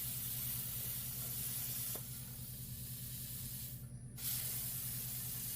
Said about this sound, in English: I'm using a circle burner here to cut out this little pattern.